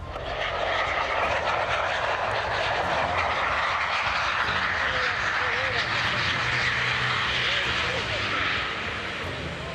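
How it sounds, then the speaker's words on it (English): A Boeing 767 with landing-gear trouble making an emergency belly landing on a foam-covered runway at Warsaw's airport, heard as a loud, continuous jet engine roar with a rushing broadband wash that holds steady throughout. "The Boeing craft landed on its belly, with a few sparks flying as it hit the runway covered with flame-retardant foam."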